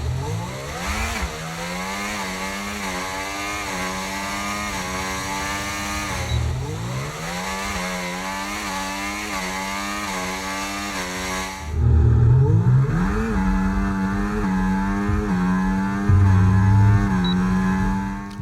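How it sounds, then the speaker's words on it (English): Formula 1 car engine sounds from the F1 24 racing game, switching between filtered mixes from muffled driver view to broadcast and cinematic versions: a high revving engine climbing through gears with sharp downshift drops, louder and fuller in the last section. "there are filters for the engine sound, a muffled driver version, broadcast and cinematic mixes"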